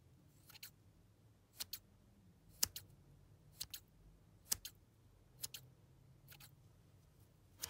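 Scissors snip through a squishy paper clay toy in quiet, crisp clicks, mostly paired double cuts repeating about once a second, close and alone.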